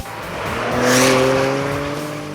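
An SUV said to handle like a sports car tears around a cone course, its engine note swelling and falling with tire squeal across the turn, loud and close with no talking.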